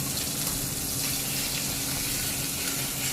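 Gravy poured into a tempering of cumin and asafoetida sizzles in a hot pan for paneer angara, a steady, dense hiss and crackle that stays loud and even throughout with no talking.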